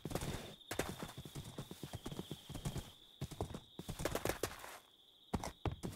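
Horse hooves clip-clop steadily in Minecraft, a rapid run of near hoofbeats with brief pauses, joined by a short whinny and some gameplay noise.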